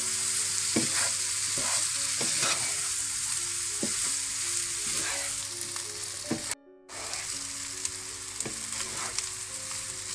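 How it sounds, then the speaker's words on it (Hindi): Vegetables and rice being stir-fried together in a hot pan for Chinese rice: a dense, loud, continuous sizzle broken by repeated stirring scrapes and one brief pause, with no talking. "सब्जियों को भी थोड़ा सा भूनने के बाद आप चावल ऐड कर दें इसमें। और अच्छी तरह से मिक्स कर लें।"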